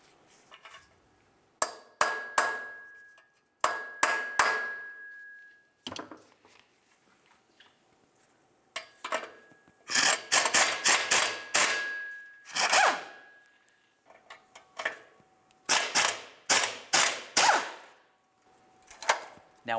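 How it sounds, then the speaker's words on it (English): A twist socket removes rotted exhaust nuts on a 2011-2018 Volkswagen Jetta, with loud repeated metallic clanks and ratcheting bursts alternating with pauses. "I'm just going to go ahead and use a twist socket to remove it."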